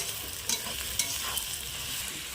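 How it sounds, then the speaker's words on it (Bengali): Ginger, onion and garlic stirred and fried in a pan over a wood-fired stove, a steady close sizzle broken by a few sharp scrapes of the spoon, with no talking. "আমি আরও একটু ভালো করে নেড়ে চেড়ে ভেজে নেব, যাতে আদার কাঁচা গন্ধটা না থাকে।"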